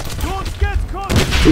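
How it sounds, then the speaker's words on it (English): A grenade detonates in Wolfenstein (2009) at the Dig Site, a broad blast near the end that follows gunfire cracks, with a voice talking over the combat. "That's a grenade."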